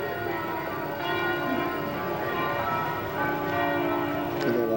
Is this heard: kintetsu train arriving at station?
no